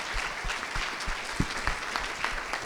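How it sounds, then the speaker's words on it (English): An audience at a housing program event in a hotel ballroom applauds a panel, a steady wash of many hands clapping at moderate distance with no voices over it. "let's give them another round of applause."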